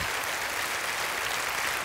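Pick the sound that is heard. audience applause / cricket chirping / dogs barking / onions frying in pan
audience applause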